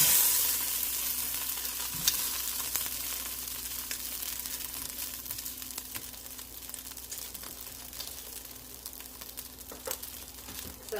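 Beef browning in a pot for beef bourguignon: a steady, close sizzle and frying hiss runs throughout, with occasional clicks and scrapes of stirring and no talk.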